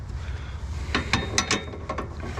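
A hand ratchet clicks in a quick series of sharp metallic strokes while tightening a part on an Audi A3, heard close over a low background hum.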